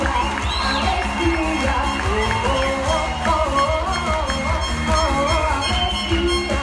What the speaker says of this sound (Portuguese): Eu peço uma salva de palmas aos formandos